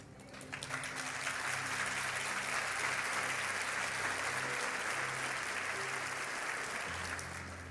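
An audience at a talk on the power of prayer applauds in a sustained, dense burst that swells quickly, holds steady and fades near the end, with soft steady tones beneath.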